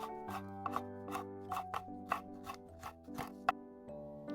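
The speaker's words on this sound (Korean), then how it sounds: "빨간 홍고추 2개는 가운데를 갈라서 씨를 제거하신 다음에 잘게 썰어서 준비해 주세요" Knife chopping two seeded red chili peppers finely on a cutting board, a run of about a dozen crisp, evenly paced close taps alone over soft background music.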